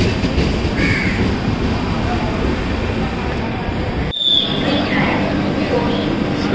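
Continuous rumbling rail noise of a special passenger train close by at an Indian station, with a brief metallic squeal partway through and a loud steady roar throughout.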